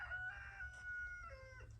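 A rooster on a small farm with goats and cows crows once in a drawn-out, wavering call. It is faint and distant over a low background rumble, and no one speaks.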